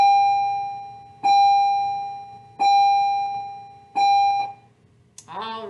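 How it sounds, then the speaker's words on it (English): A school bell rings for lunch in a classroom, giving four evenly spaced loud electronic chimes, each a clear sustained tone that fades before the next, followed by a brief voice. "there we have bell ring for lunch"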